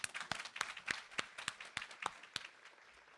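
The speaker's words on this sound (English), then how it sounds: "So give the new board members applause." Claps ring out as an audience applauds newly announced board members at a commission coffee event. The claps are sparse and distinct, a handful of people striking at an even pace for about three seconds.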